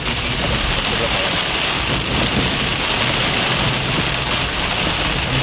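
Heavy rain and hail pour down in a Florida thunderstorm, a steady loud broadband roar that continues throughout with no break, and thunder may be rumbling low beneath it.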